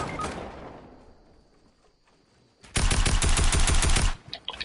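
Gunfire while shooting at an enemy in a video game: after a quieter lull with faint background noise, a loud, rapid burst of automatic fire rattles for over a second, then breaks into a few scattered shots.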